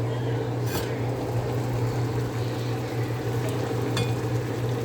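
Onions cooking in a pan on a home stove, with a steady low hum and faint sizzling running evenly throughout, a few brief clinks standing out near the start and end.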